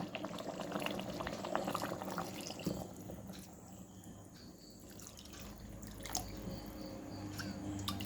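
Coconut milk from one medium coconut goes into a simmering broiler chicken curry, with soft bubbling and liquid splashes and drips, then a steady low simmer.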